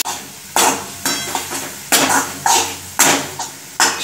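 Sambar masala, turmeric and red chilli powder being sautéed in a pot for drumstick dal: loud, close metal scraping and clanking of a spoon against the pan in regular strokes over a light sizzle.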